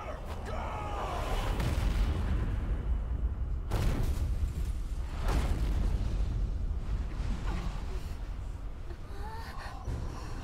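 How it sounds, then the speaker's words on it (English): Deep booming cannon blasts go off amid a constant noisy roar, a few heavy explosions rumbling through a chaotic battle in the video game Valkyria Chronicles 4. "Cannon fire! All tanks scatter!"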